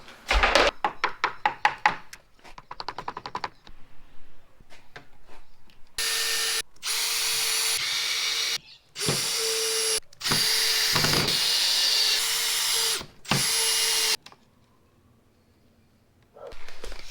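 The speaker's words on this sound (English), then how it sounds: "I actually drilled some blocks on top of the stringer just to give the floor more support" A power drill driving into wooden blocks on a boat stringer, with a loud, close motor whining in several sustained bursts after sharp knocks and clatter, then falling quiet.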